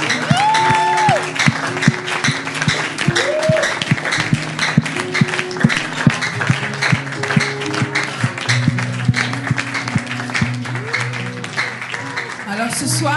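A church congregation claps and cheers loudly, a dense wash of applause with whoops and shouts, close and sustained throughout, with voices calling out over it and a tonal sound rising briefly in places.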